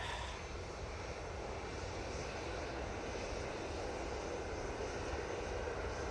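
A fixed-wing airplane's engine at Manchester Airport rumbles in a steady, broad roar that holds evenly across the whole stretch, loud and unbroken, with no talk over it.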